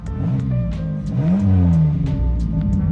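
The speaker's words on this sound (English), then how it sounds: "check out what happens when I rev, right? Clutch in." A car engine revved with the clutch pressed in, a close, loud rumble that climbs in pitch, holds briefly, then settles back toward idle.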